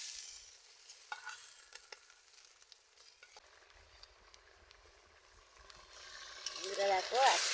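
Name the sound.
fried bele fish added to boiling curry, stirring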